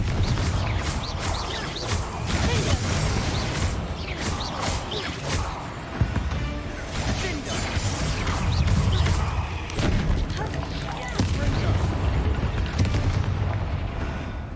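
Confringo, an explosive fire spell cast in the video game Hogwarts Legacy during a spider fight, bursts in loud booming blasts layered over dense rumbling battle noise and music, with brief speech.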